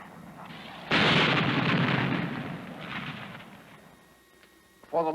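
An air-launched missile's rocket engine ignites with a sudden loud roar, a sustained rushing blast that fades over a few seconds before another burst starts.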